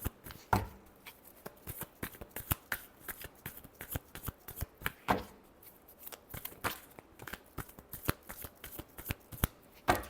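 Tarot cards riffled and shuffled by hand in a rapid, crisp flurry of papery snaps and clicks, close and steady over about ten seconds, with no talking.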